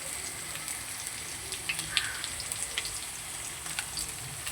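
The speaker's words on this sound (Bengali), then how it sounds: "আলুগুলোকে একটু ভেজে নেব। দিয়ে দিচ্ছি এতে লবণ, আর দিয়ে দেবো হলুদ গুঁড়ো।" Potato pieces for a fish curry fry in oil with salt and turmeric powder, giving a faint, steady sizzle with scattered small crackles and pops throughout.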